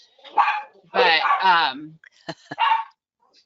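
A pet dog barks close by in a home setting, several sharp, loud yelps and barks in quick succession, with a brief spoken word mixed in.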